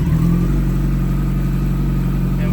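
A Kawasaki ZX14R sport motorcycle engine idles loud and close just after starting in first gear, a steady low rumble with a continuous even drone and no speech.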